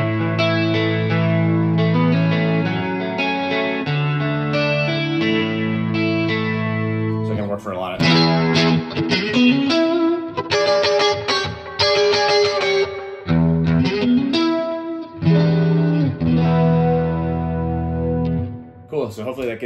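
An electric guitar played through a Helix Princeton amp preset with a lo-fi VCR-style modulation effect, warbling chorused chords and single notes, distorted and loud, without voices.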